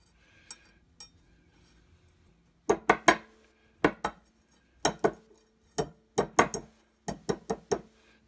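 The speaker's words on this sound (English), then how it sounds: "break up the edge a little bit where some of the glass isn't broken. Just kind of lightly tap it around the edges." Broken glass edges of light bulbs are lightly tapped out with a small tool, giving a series of sharp, bright clinks and chinks in short clusters, close up and with no talking.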